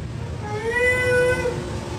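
A single drawn-out meow, a human voice mimicking a cat, rising and falling over about a second against a quiet hum.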